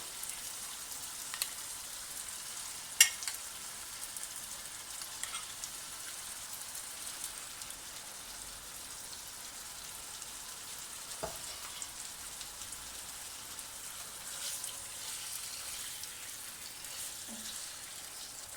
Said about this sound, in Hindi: अब हम इसमें कलेजी मिक्स करेंगे जो हमने मैरिनेट की थी।